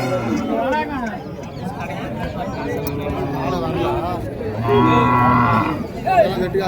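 A native-breed cow moos loudly and nearby at a cattle market, drawn-out calls, while people chat in the background of a busy outdoor setting.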